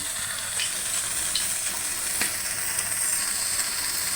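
Cooking oil heats in a pan on a stove, making a continuous, fairly loud hiss with faint crackles throughout and no voices.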